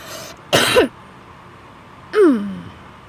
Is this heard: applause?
no